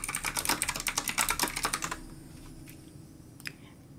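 Rapid, close clicking of keys on a computer keyboard while text is entered for a channel subscribe animation, steady for about two seconds before stopping, with a few scattered faint clicks afterward.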